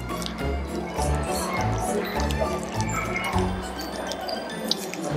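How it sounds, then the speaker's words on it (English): Banana being mashed inside a bag with salt water and dishwashing detergent, continuous wet squishing and dripping sounds, close and busy throughout. "So you'll just massage the bag with your salt water and dishwashing detergent solution"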